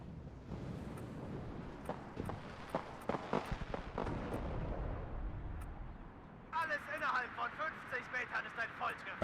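MLRS rocket strikes in the WARNO strategy game: a rolling series of distant booming impacts and crackling detonations, then a quicker run of sharp whooshing launches near the end, faint and spread out, with voices talking over it.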